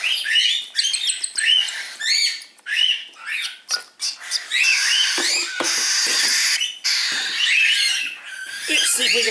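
Cockatiel chicks squawk during hand feeding indoors, a dense, insistent chorus of shrill overlapping begging calls and raspy chirps, close and loud, continuing almost without pause.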